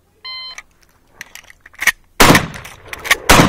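Several sharp, loud gunshots at a shooting range, a couple of close blasts preceded by softer clicks and handling noise, with the final shots ringing out broadband and heavy.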